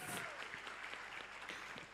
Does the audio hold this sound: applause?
yes